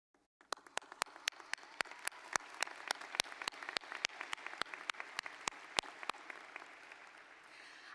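Applause at a medical school commencement ceremony, with sharp, close handclaps standing out over softer background clapping, stopping after about six seconds.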